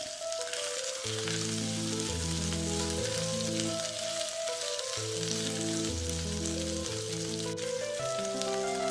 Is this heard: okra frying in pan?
yes